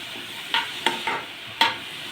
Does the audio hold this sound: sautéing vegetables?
yes